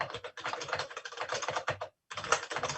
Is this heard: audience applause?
no